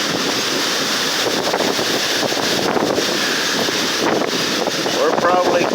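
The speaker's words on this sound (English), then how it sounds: "That wind is getting strong." Strong wind from Hurricane Zeta, around 40 to 50 mph, roars steadily with heavy gusting noise buffeting the microphone, a loud continuous rush with no speech over it.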